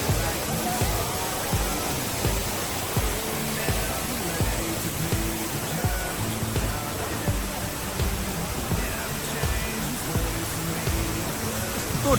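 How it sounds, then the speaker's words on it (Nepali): A waterfall at Mohini Jharna near Markhu, Kulekhani, rushes as a steady, dense hiss and roar filling the whole scene, constant and close, with faint voices buried underneath. "यस्तै रमाइलो झर्ना"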